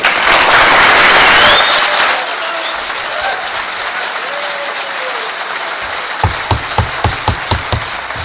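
Loud burst of crowd applause at a town council public hearing fades after about two seconds, leaving room murmur, then a few scattered isolated claps near the end.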